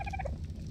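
Dodo birds in the video game ARK clucking like chickens, a quick run of short gobbling calls close by over a low steady hum.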